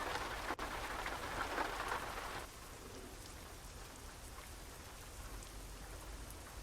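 Steady rain patters in Euro Truck Simulator 2, a dense hiss of drops that is heavier at first and then settles into a quieter, even shower.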